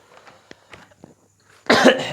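A single loud, harsh cough from a person with a cold bursts out near the end, preceded by a few faint clicks and small sounds in a quiet room.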